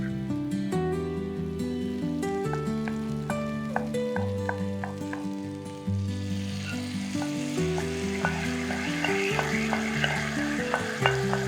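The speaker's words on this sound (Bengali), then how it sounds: "এবার আমি এই বানিয়ে রাখা মশলাটা আর একটু ফেটিয়ে নিয়ে এটার উপর ঢেলে দেব" Whisked yogurt spice mix hits hot okra frying in a pan and gets stirred, bringing a steady close sizzle with repeated spoon scrapes and taps over tonal music.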